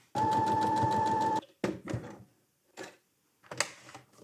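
A sewing machine runs a steady rapid burst of just over a second, stitching a new seam line to take in the waist of a suit, followed by several softer handling clicks and rustles, close and with no talk.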